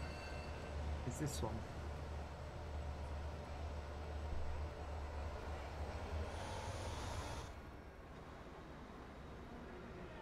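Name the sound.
train running, from the video game Transport Fever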